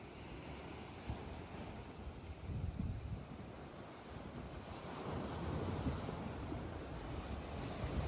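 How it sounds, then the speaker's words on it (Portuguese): High ocean waves breaking at Boa Viagem beach in Recife during a high tide, a steady broadband roar of surf mixed with wind buffeting the microphone, with no voices. "Olha cada onda alta lá embaixo fazendo, ó."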